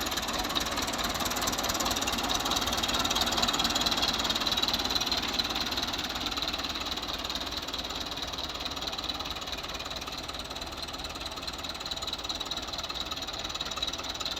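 Fiat 85 tractor engine running steadily in a village setting, a continuous knocking diesel drone with even vibration and no pauses, close and fairly loud throughout.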